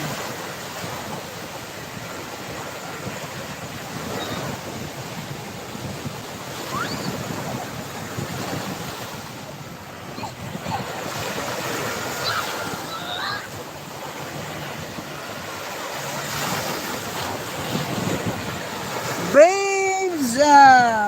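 Wind-buffeted surf rolls steadily throughout, a continuous rough wash of water with gusty microphone noise, ending in a brief louder burst.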